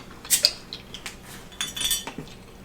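Light metallic clinks and a quick hiss of the cap coming off a bottle of Blackout Stout, followed by faint glassy taps, close and quiet.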